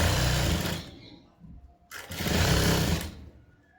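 A sewing machine stitches piping onto a blouse in two loud, close bursts of fast mechanical whirring, separated by a short pause.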